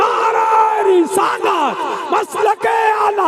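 A large crowd at a Ramadan religious sermon bellows a chant in unison in reply to a call, loud repeated shouts with rising and falling voices lasting several seconds.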